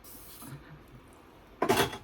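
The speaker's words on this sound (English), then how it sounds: "Sometimes I will spray hairspray onto a spoolie." A short hiss of hairspray from an aerosol can aimed at a spoolie brush, one brief close burst after a quiet stretch of faint handling sounds.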